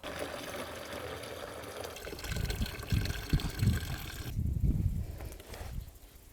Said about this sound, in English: I'm going to put that undiluted in these bottles